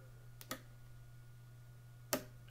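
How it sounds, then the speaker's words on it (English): The station-selector knob on top of an antique radio makes a few sharp clicks, two close together and then one more after a pause, faint over a steady low hum. "I love that clunking, clicking sound."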